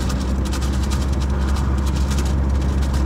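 A car engine runs steadily, a loud, droning low rumble that holds constant without any change in pitch or any voices over it.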